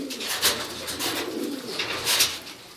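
Pigeons kept in a loft through winter coo softly and repeatedly in low, rolling calls, close by with no talking.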